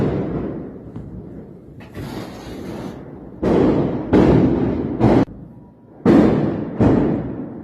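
Fireworks and firecrackers bursting during a New Year celebration at night in a village, a series of loud booming blasts, some close together, with quieter crackling and a distant rumble between them.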